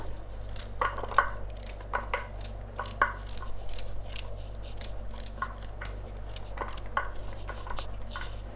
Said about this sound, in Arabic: وانا اخوتي نقطعوا هاد الخضيره ديالنا